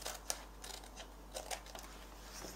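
Scissors snip through paper while cutting petal pieces for a handmade rose, several short, quiet crisp cuts spaced irregularly against a hushed room.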